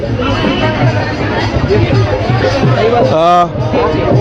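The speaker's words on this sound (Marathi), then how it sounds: "ह्या इथं लावलेल्या स्टॉलवर सुद्धा तरुणाईची गर्दी आपल्याला बघायला मिळते" Young people crowding a merchandise stall for an Ambedkarite clothing brand chatter together, a steady dense babble close around, with one brief louder voice rising near the end.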